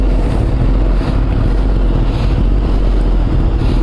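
Kawasaki ZX-10R sport motorcycle fitted with an Akrapovic exhaust, running at a steady low rumble with heavy wind-like noise throughout, no talking.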